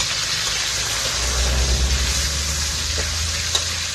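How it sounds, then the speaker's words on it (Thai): Pork frying in a hot pan with garlic and pepper, a steady bright sizzle running through with a low rumble underneath and small crackles near the end, no one talking. "ใส่หมูลงไปผัดนะครับ"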